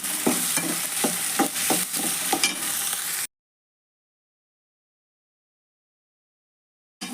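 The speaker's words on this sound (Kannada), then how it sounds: "ಎಣ್ಣೆಯೊಳಗೆ ಫ್ರೈ ಹಾಕಿದ್ದೀವಿ ಉಳ್ಳಾಗಡ್ಡೆ ಮತ್ತು ಟೊಮೆಟೊ" Onion and tomato frying in oil in a pan, a bright busy sizzle broken by rhythmic stirring scrapes for about three seconds before the sound cuts to silence.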